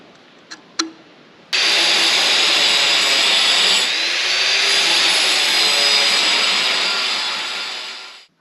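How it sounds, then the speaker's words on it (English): An angle grinder cuts into a cracked metal weld on farm haying equipment, starting after two short clicks and holding a loud, steady high whine for about seven seconds before spinning down. "So I just ground out that crack a bit and I'll fill it back full with a weld."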